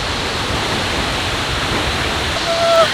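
Steady, loud roar of Seljalandsfoss waterfall in Iceland fills the whole stretch, a broad continuous rush with a brief high whistle near the end.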